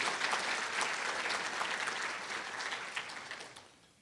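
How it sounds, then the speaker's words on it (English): A civic audience at a 2018 State of the City address applauds the standing council members, a broad continuous clapping that holds steady and then tapers off near the end. "Give them a round of applause as well."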